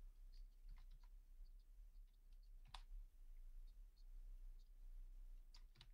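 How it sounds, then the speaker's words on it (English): Faint, sparse key presses on a PC computer keyboard, a few scattered clicks in a quiet room with no one speaking. "We can hear you typing."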